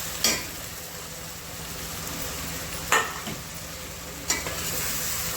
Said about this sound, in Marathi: असा कांदा छानपैकी लाल होईपर्यंत भाजून घ्यायचा.